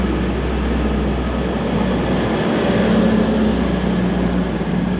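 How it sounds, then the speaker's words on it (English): A Hunter Rail car J4 diesel train pulls out of a station platform with a loud, steady engine rumble and low drone that swells slightly, heard close with no talking. "the Singleton Hunter Rail car J4 departing platform number 2"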